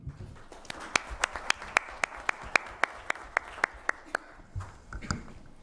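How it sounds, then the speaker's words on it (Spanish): Audience clapping at a law school seminar on critical legal teaching, a run of about twenty evenly spaced loud claps in a slow steady rhythm over a soft bed of scattered clapping, fading into a few looser claps. "le damos un fuerte aplauso"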